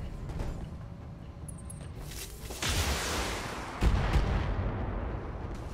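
Mech weapon fire in the BattleTech video game, a series of heavy booming shots with rumbling tails. Two strong impacts stand out against a continuous low battlefield roar.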